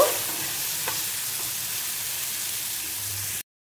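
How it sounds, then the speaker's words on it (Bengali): Chopped onion and tomato fry with salt in a pan for a kucho chingri chachari, a steady close sizzle with a faint scrape of stirring near the start, cutting off abruptly. "বেশ করে এগুলো ফ্রাই করব"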